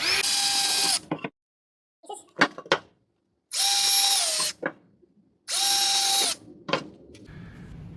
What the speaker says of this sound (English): I've got those pilot holes drilled